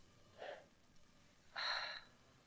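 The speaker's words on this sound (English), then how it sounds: "I can hear you breathing." Two faint, breathy exhalations over a phone line, a short one followed by a longer, louder heavy breath, with no talking.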